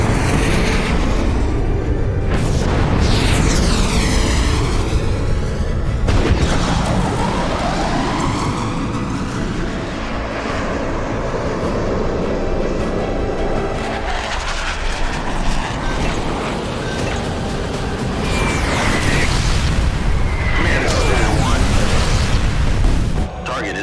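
Artillery fire and explosions hitting a target in an action thriller film, heavy rumbling booms and sweeping roars layered densely over the whole stretch, loud and continuous with voices heard among them.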